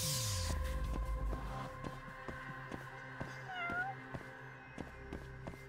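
Cat meowing in the video game Judgment, a single drawn-out meow with a rising and falling pitch, heard over game background ambience and music.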